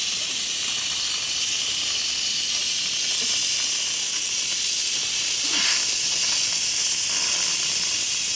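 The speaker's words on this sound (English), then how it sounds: "I normally get a spoon, or you can use, you know, a thing to release the pressure" An Instant Pot vents its pressure in a loud, continuous steam hiss that holds evenly for the whole stretch, close by with no pauses or talk.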